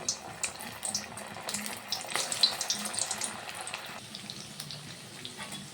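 Banana flower cutlets sizzle in hot oil in a wok, a steady broadband frying hiss with small bursts as pieces go in, moderately quiet and close, with no talk.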